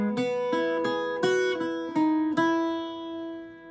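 An Irish bouzouki plays the alternate ending phrase of Willie Coleman's Jig, line 4: bright plucked notes in a lilting jig rhythm, about seven clear picks, and the last one rings out and fades, with no voice.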